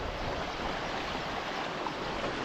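Water rushing down a waterfall, a dense, continuous roar close by with no let-up and no voices.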